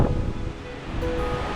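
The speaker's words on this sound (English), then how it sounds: "Man, that wind is wild." Strong gusting wind on an exposed mountainside in the Tararua Forest Park roars broadly and continuously into the microphone, loud and close with no talking.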